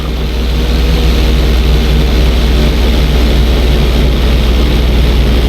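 A loud, steady airplane engine drone during an inside loop in GTA 5, a constant low propeller hum that stays level with no pauses and no voices.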